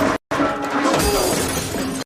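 A glass store door is smashed, giving a loud, sharp shatter of breaking glass followed by tinkling debris, preceded by a brief moment of silence.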